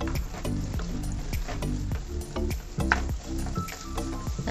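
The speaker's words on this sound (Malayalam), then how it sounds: "ഇതിലേക്ക് സവാള, sweet corn, green peas, carrot, beans എന്നിവ ചേർത്ത് നല്ലതുപോലെ വഴറ്റുക." Onion, sweet corn, green peas, carrot and beans sautéing in a pan, with a continuous close sizzle broken by a rhythmic run of spatula scrapes and taps against the pan.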